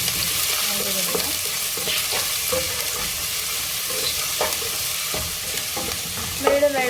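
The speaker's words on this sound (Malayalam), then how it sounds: "നമ്മുടെ അരിഞ്ഞ് വെച്ചിരിക്കുന്ന സവാള എല്ലാം ഇട്ട് കൊടുക്കാം. പതിയെ പതിയെ ഇട്ട് നന്നായി ഇളക്കി" Onions and green chillies are stirred in a frying pan for a Kerala chicken roast. A loud, close, continuous sizzle runs under repeated scraping and stirring strokes.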